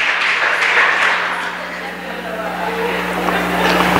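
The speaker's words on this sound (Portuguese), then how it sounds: "Você pode aplaudir a Deus, pode aplaudir a Deus." A church congregation applauds, a broad, steady wash of clapping hands filling the hall for several seconds over a low electrical hum.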